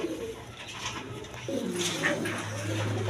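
A male kaldam pigeon coos at a pigeon seller's, a soft low rolling call that swells in the second half, close by with faint background noise.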